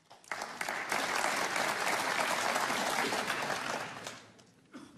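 Audience applause breaks out at the 2017 Scottish Open snooker final between Neil Robertson and Cao Yupeng, a dense, steady clapping that rises quickly, holds for about four seconds, then thins out.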